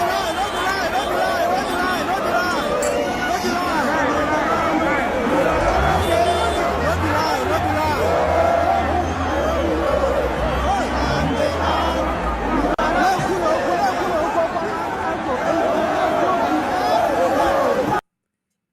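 A crowd of protesters chatters at a Biafra protest, a dense, continuous babble of many voices close by, with a louder voice speaking over the hubbub and occasional thumps.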